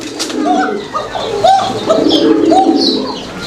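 Several pigeons, a breeding pair of fancy pigeons among them, coo in repeated soft rolling phrases close by, with faint chirps mixed in and no talking.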